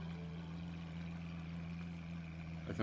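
A car's engine idling in the Farming Simulator 2019 video game, a steady low hum with a constant drone, heard alone and fairly quiet, with a brief rustle at the very end.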